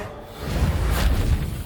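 A Reparo repairing spell in Hogwarts Legacy, heard as a brief rubbing, whooshing swell with a low rumbling body, rising then holding steady and close for under two seconds, with no talk.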